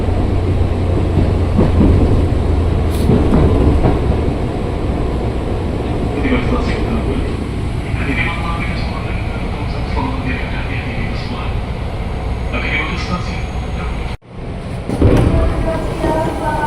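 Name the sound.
KRL commuter train entering Tambun station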